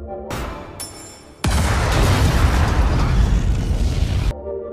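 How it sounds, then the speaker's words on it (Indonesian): Explosion in the Bloodshot film as a held bullet sets off a blast, a loud deep roaring boom that swells suddenly after a brief lead-in and rumbles for about three seconds. "Rey langsung melepaskan peluru yang digenggam hingga akhirnya benda itu meledak, menghancurkan Rey dan juga Emil"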